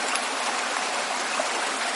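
River water flows steadily and evenly at a moderate level, a continuous gentle rush and trickle with no voices and no breaks.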